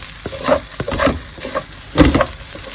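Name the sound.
rice frying in a pan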